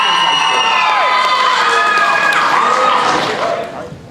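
A game show audience of high school students cheers and shouts loudly, with excited young voices and whoops sustained before trailing off at the end.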